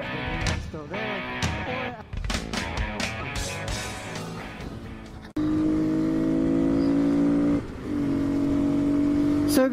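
A Honda Grom motorcycle engine drones and revs while riding on a road, a steady hum with pitch rising as it accelerates, up close, with a voice speaking early on.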